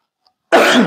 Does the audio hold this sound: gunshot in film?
no